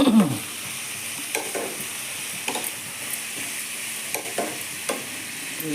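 A spoon scrapes and stirs green chillies and salt in a frying pan, a few soft strokes spaced apart over a steady low sizzle.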